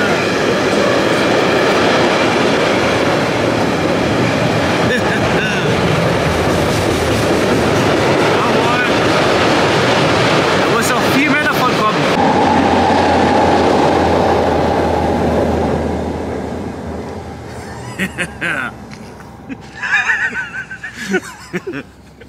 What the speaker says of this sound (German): Die ganze Nacht laufen so große Züge